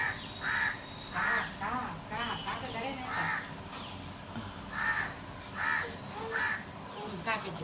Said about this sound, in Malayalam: ആ കാക്ക വന്നിരിക്കുന്നു നോക്കട്ടെ